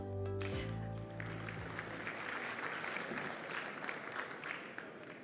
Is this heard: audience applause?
yes